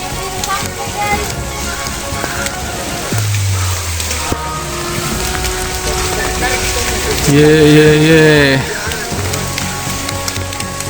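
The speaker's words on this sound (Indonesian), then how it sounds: "Hujan masih mengguyur." Rain keeps pouring on a mountain trail between hiking posts, a steady wash of falling water heard throughout under a person's brief speech and other tonal sounds.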